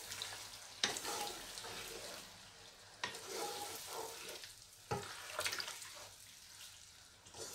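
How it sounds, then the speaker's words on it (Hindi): Potatoes fry in spice masala with a faint, soft sizzle, punctuated by a few sharp stirring clatters from a spoon against the pan. "यहाँ आलूओं को भूनेंगे अच्छी तरह मसाले में"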